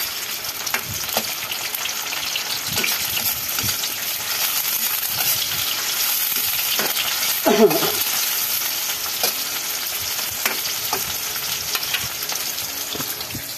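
Garlic and tomatoes fry in a pan with a steady close sizzle, plus occasional clinks and scrapes of stirring.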